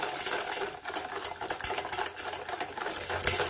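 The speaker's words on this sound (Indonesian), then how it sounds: "selanjutnya saya tambahkan 1 bungkus santan instannya, lalu saya aduk kembali" Sugar and instant coconut milk are stirred together for a palm sugar pandan sponge cake batter, producing a quick, rhythmic scraping and clicking of a utensil against the bowl, close and fairly quiet.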